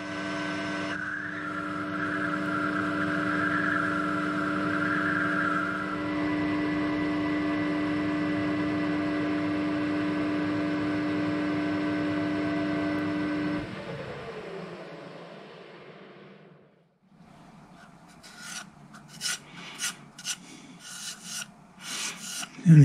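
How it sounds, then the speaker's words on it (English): A boring bar takes a light skim cut inside an NT40 socket on a lathe. A steady tonal machining whine and rubbing hum runs for most of the time, then dies away, leaving a few knocks and clatters. "So we'll take a very light skim cut down through there and see if that cleans anything up."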